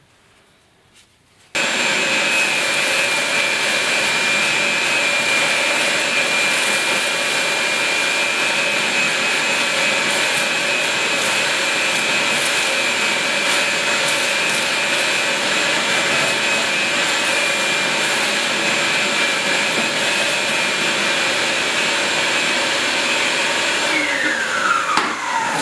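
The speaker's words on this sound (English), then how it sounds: "the best way to get rid of all this crud in here is just to use a vacuum cleaner" A loud, steady vacuum cleaner roars continuously after a brief quiet start, its whining suction holding constant to the end as it sucks debris out of a Broil Mate barbecue.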